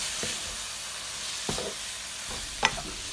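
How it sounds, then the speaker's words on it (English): Holy basil stirred into sizzling stir-fried minced pork in a hot pan, a steady frying hiss with a few scraping spatula strokes and a sharp clink near the end. "Garnish with the basil leaf and stir a little"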